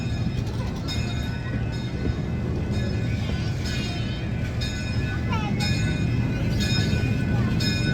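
The Olde Kennywood Railroad, a park train at Kennywood in Pittsburgh on a rainy day, rumbles steadily along its rails with faint metallic squeals and clinks, heard from on board as a continuous close ride noise.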